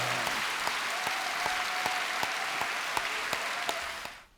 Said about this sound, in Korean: 이제 박수 칩니다